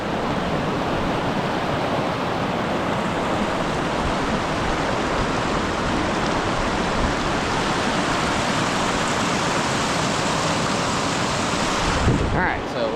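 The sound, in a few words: river flowing on Old Sugarlands Trail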